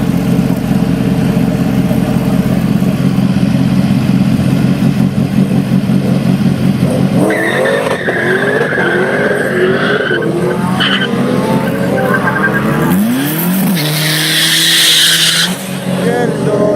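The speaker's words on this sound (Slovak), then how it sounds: "v pravej dráhe Přemek Kolek, Škoda 120, tých 180 kW, to znamená, máme tam jeden motor" A turbocharged Škoda 120 making about 180 kW accelerates at a drag racing qualifying session, its loud engine rising through the run before tires squeal sharply near the end, with crowd and commentary noise underneath.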